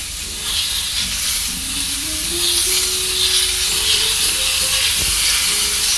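A Highland beef entrecôte sizzles loudly in a hot pan with butter, a continuous close hiss and spatter, with a faint rising tone and a brief clack partway through.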